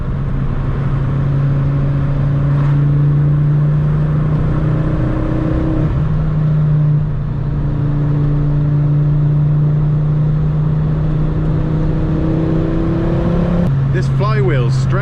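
A tuned Ford Focus ST225 with a Stage 2 remap pulls hard in fourth gear, its engine droning loud and steady with pitch climbing gradually, a brief lift partway through, and a voice speaking near the end.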